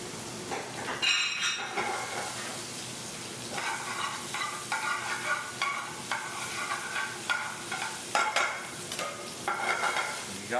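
Garlic stirred in a hot pan with oil, giving a steady close sizzle broken by repeated scraping and clinking of a utensil against the pan, with no talking.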